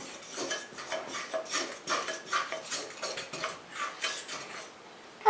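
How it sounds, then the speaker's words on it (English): A spoon scrapes and knocks around a bowl as milk and egg are stirred into a cinnamon roll mixture, a steady close rhythm of rasping strokes with no talking. "And then we just stir that all up,"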